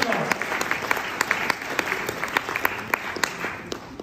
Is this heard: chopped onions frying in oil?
no